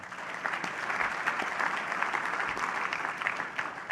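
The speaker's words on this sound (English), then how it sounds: "please a round of applause for the Marriott team" Applause from a conference audience at a closing keynote, a steady, moderately distant wash of clapping that continues evenly for a few seconds with no talk over it.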